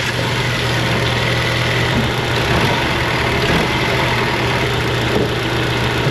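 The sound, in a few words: car engine started and running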